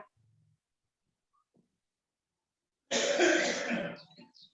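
A single harsh cough, fairly close, breaks a near-silent stretch, followed by a couple of faint trailing sounds.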